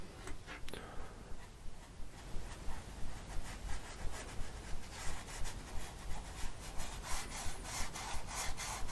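Brush scraping acrylic paint onto canvas for snow, a quiet, close, rhythmic rasping in repeated strokes, with soft speech at the start.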